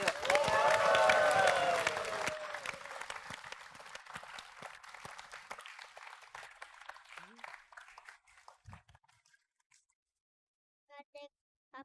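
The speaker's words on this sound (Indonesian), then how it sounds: "Langsung aja kita panggil dan beri tepuk tangan yang meriah" A studio audience at a televised Indonesian entertainment show gives lively applause with some cheering, loud at first and then thinning into scattered claps over several seconds as talk and music begin underneath.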